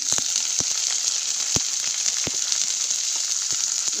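Green beans sauté in hot oil in a pan with onion and curry leaves, giving a steady bright sizzle broken by a few sharp pops and spatters, close and fairly loud, with no voices.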